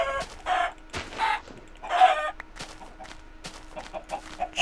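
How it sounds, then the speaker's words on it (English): Blocky chicken clucks from Minecraft come in several short bursts, fairly close, spaced among quieter game ambience and small clicks, with no talking. "Chicken!"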